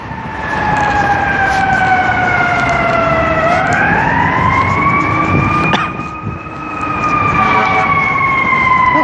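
A New York Fire Department fire engine siren wails loudly on a Brooklyn street, its rising and falling tones sweeping steadily, dipping briefly before resuming at full blast over city traffic noise.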